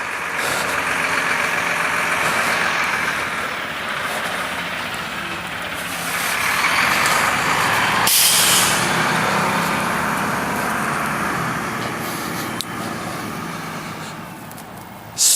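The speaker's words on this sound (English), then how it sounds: "It's fixing to get really loud. We've got a lot of construction going on." A heavy truck rumbles past nearby, its engine noise swelling and fading, with a sharp hiss of air brakes midway amid ongoing construction din.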